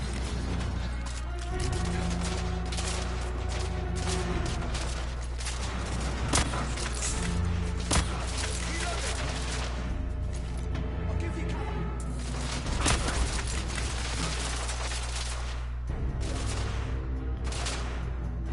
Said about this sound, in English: Ah, shit, they got machine guns.